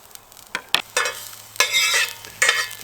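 Garlic frying in oil in a stainless steel pot, with bursts of sizzling and stirring scrapes coming in uneven pulses, close and fairly loud with no talking.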